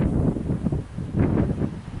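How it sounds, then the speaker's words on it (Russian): Strong storm wind buffets the microphone in gusty, roaring surges during a stormy fishing outing on the water, loud and uneven with no talk. "Так что будем ждать, пока стихнет ветер."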